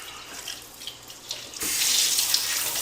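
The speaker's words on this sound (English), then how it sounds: "I'm going to give it a quick rinse with some nice cold water" Cold water runs from a kitchen tap over brined chicken in a colander, starting as a light, uneven trickle and then opening into a steady, full hiss of flowing water.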